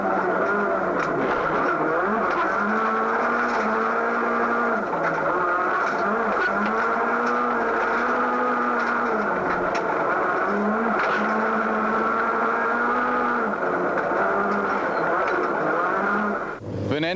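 An in-car rally engine from the 2003 Rally of South Africa, a loud, continuous engine drone rising and falling with gear changes on slow, bumpy forest roads, with voices speaking faintly over it.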